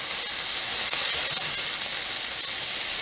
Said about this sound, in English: All right, I see now my onions are browning